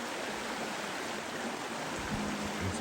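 Creek water flowing over rocks and swinging around a bend beside a deep bank with black sand, a steady broadband rushing wash, fairly close and continuous with no voices.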